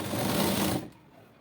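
An electric sewing machine stitches a box strip onto a blouse, whirring loudly and rapidly up close for under a second before it stops, leaving quiet room sound.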